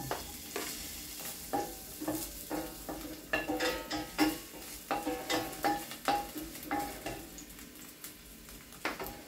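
Garlic fries in hot cooking oil in a pan, a steady soft sizzle punctuated by repeated scraping and clinking of a utensil stirring against the pan.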